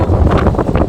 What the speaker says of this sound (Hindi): और बहुत प्यारी हवा चल रही है।